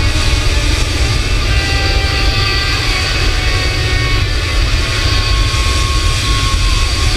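Simulated airliner taxiing in Microsoft Flight Simulator, a loud continuous jet engine rumble and whine with a steady low roar and faint high tonal hums, unbroken throughout.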